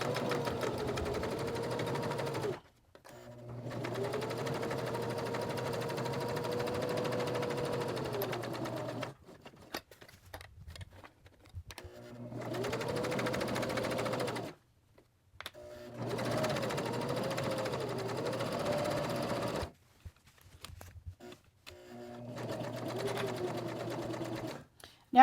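A sewing machine stitches a placemat in steady humming runs of several seconds, stopping briefly between bursts as the fabric is turned at corners, close and clear with no talk.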